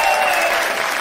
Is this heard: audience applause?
yes